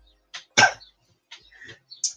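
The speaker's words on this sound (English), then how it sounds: "I keep coughing, apologies." Several short, sharp coughs in quick bursts, close by, separated by brief silences, with a small throat sound at the end.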